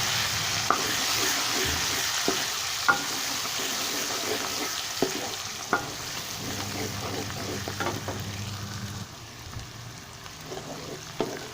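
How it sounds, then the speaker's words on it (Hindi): Steady oil sizzle from fenugreek and coriander frying in a pan, with occasional clinks of a spoon stirring, close and continuous. "अभी इसमें मेथी और धनिया शामिल करूँगा, इसको थोड़ा मैं भून लूँगा।"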